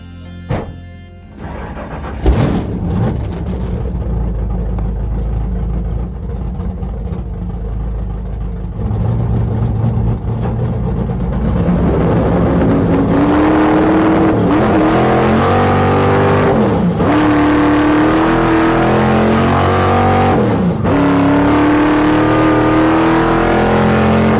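A 1973 Plymouth Fury race car on the Bonneville Salt Flats is started with a sharp crank and catch. It idles roughly, then revs hard and accelerates loud and close, climbing through gears in repeated rising pulls.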